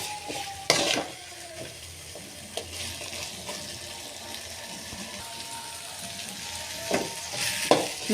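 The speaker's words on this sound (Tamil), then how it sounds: "வேக வச்ச பட்டாணியை போட்டு நல்லா கிண்டி விட்டுக்கலாம்." Boiled green peas sizzle gently in a pan while a utensil scrapes and clinks against the metal now and then, with no one speaking.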